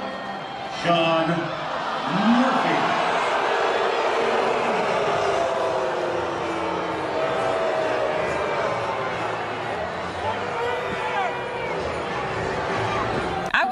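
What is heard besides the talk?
baseball stadium crowd reacting to umpire tossing bat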